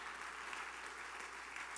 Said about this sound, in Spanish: Give that loud applause to Christ Jesus